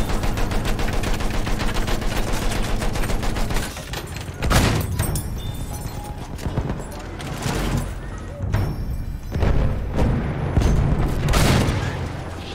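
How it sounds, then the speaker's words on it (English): Rapid machine gun fire in the World War I shooter Battlefield 1, a long, fast, loud stream of shots, followed by heavy booms and scattered bursts as players talk. "Machine gun!"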